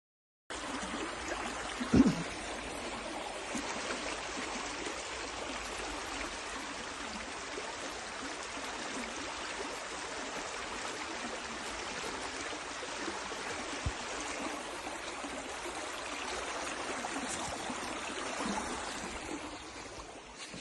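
River water flows outdoors in a steady, soft wash with no breaks, a faint trickling hiss heard from a little distance. It stays quiet throughout, with one brief thump near the start.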